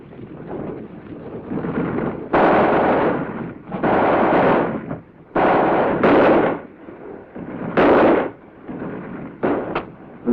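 Light machine gun fire rattles through a 1953 rifle platoon's attack on buildings, loud rough bursts and booming reports rising and falling over a continuous noisy battlefield wash, with no voices.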